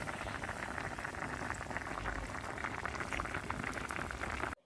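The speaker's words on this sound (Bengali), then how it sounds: "এবার আস্তে আস্তে জাল দিয়ে সেদ্ধ করে নেবো।" Snake gourd curry with spices simmers gently in a pan over low heat, giving a close, quiet, continuous bubbling and fizzing that cuts off abruptly at the end.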